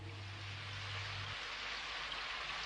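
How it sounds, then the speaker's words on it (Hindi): Steady cartoon rain effect hisses evenly throughout, a dense wash of falling drops at constant loudness, with a low hum cutting out partway; no speech. "मम्मी, बारिश आ गई"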